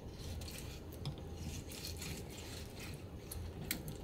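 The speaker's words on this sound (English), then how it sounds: "you're just going to go the entire length of that tenderloin and let the knife do the work" A fillet knife slices silverskin away from a venison tenderloin, giving a steady soft rasping scrape that runs continuously and close up, with no talking.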